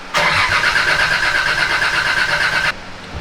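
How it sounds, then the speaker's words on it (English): A freshly built car engine cranks over on its first start attempt, a loud steady whirring drone that runs evenly for about two and a half seconds and then cuts off, with no voices. "But let's go ahead and get this cranked."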